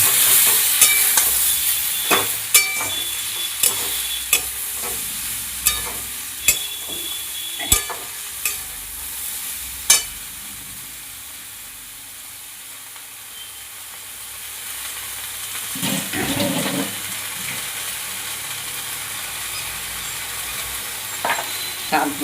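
Turmeric and Kashmiri chili powder frying in a pan: a spoon clicks and scrapes against the metal in a quick irregular rhythm over a constant sizzle, easing off midway before a louder stir returns; no speech.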